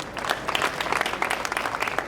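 An audience at a Jamaat-e-Islami Minority Day conference in Karachi claps loudly and steadily, with individual claps standing out from the crowd's continuous applause throughout.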